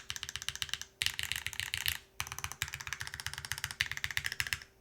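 Typing on a Pangea Mini mechanical keyboard, a rapid stream of crisp close keystroke clacks in bursts with two brief pauses, no voices.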